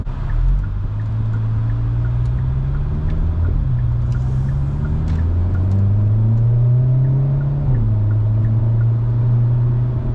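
A Hyundai Elantra N with two people aboard accelerates on a hot day, its engine droning loud and close from inside the cabin and climbing in pitch through the gears, with brief drops at each shift.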